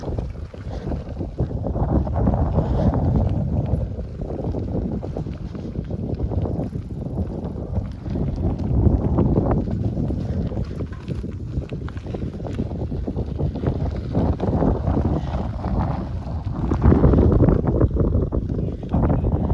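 Strong wind over burning fields near Ukhta, Komi Republic, roars and buffets the microphone nonstop, a heavy, rumbling broadband gust that swells louder near the end.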